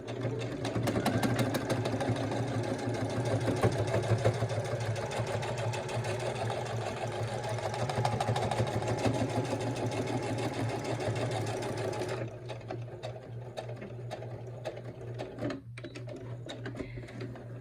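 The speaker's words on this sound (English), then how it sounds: "We're just going to sew right over top of the line that we were sewing on before." Steady, rapid mechanical whirring and needle clatter of a sewing machine stitching through a chenille baby blanket, running continuously and close, then slowing and stopping near the end with a few light clicks.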